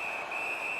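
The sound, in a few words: referee whistle in NHL19 ice hockey video game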